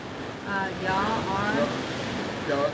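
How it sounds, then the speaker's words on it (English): Ocean surf rolls steadily in the background, a continuous wash of breaking waves with wind buffeting the microphone, while faint voices are heard under it. "I can hear those waves in the background."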